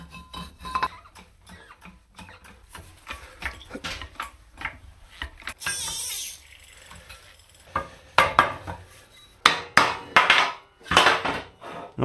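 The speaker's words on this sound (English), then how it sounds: "all I need to do is bend this pipe." A metal pipe is bent by hand in a workshop, giving a run of irregular knocks, creaks and taps, some sharper and louder toward the end, with no talking.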